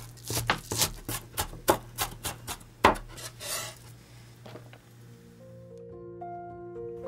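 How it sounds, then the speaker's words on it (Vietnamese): A knife crushes and minces shallots on a cutting board in a quick series of sharp knocks that slow down and then fade, leaving faint background tones. "Hành tím mình đập dập và băm nhỏ."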